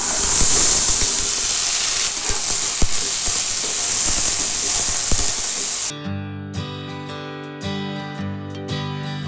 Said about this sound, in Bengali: দিয়ে দিচ্ছি কড়াইশুঁটি